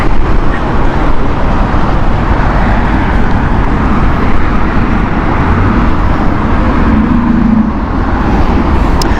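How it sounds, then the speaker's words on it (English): Jet engine roar from a British Airways Boeing 787-8 at Heathrow Airport, a loud, steady broadband rumble that holds level throughout without pause. "San Jose flight is next with the 787-8 inbound from British Airways."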